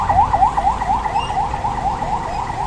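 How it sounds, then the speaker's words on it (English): Emergency siren on a street at a Roosevelt Avenue intersection in Quezon City, heard as a steady repeating rapid yelp wail about twice a second, fairly loud, over traffic rumble, with no one talking. "There's a ambulance behind me."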